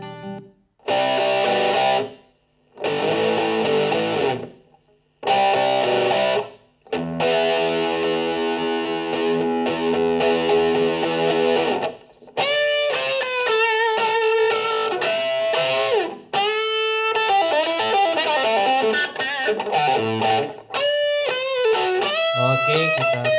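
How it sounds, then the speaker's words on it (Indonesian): Distorted electric guitar played through a Betavo BX24N speaker, loud bursts of chords separated by short gaps, then a longer stretch of sustained, saturated riffs and bends filling the room. "kita lanjut ke gitar distorsi"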